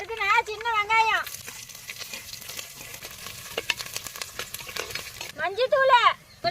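Mustard seeds and curry leaves fry in hot groundnut oil in a pan, a steady close sizzle and crackle between stretches of speech at the start and end.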